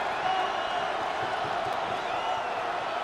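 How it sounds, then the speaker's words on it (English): A stadium crowd in the Madden NFL 26 football video game roars in a steady, dense wash of cheering and whooping, loud and continuous throughout. "this crowd gets up making some noise"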